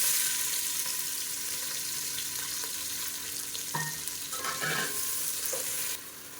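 Sliced large onions frying in oil in a pan for chicken biryani, giving a steady close sizzle with a few scraping stirs and clinks, no talk over it.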